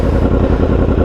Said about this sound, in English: You want to see a wheelie? I'm gonna give you a wheelie.